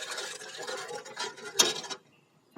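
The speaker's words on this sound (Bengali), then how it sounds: "দুধটা চুলায় বসানো হয়েছে, এখন অনবরত নেড়ে জাল করে নেব।" Milk in a pot on the stove being stirred steadily, a spoon scraping and clinking against the metal in a continuous close rattle, with one sharper clink before it stops.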